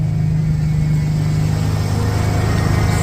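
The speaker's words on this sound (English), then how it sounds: "The idle, I had the idle way down where I liked it, and then I kind of revved it, and it's come back up" A Ford Bronco engine idles steadily up close, a low, even rumble with a constant hum and no talk, holding a raised idle after being revved.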